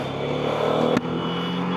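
A BMW G310RR motorcycle engine runs steadily with a strong buzzing drone, close and sustained, with a brief sharp spike partway through and no speech.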